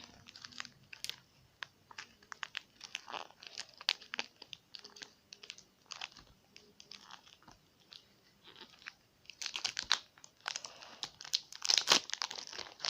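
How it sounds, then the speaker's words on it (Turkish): Crinkly plastic toy packaging is torn and crumpled open in close, irregular bursts of crackling that grow louder and busier toward the end. "paketi biraz zor açıyoruz"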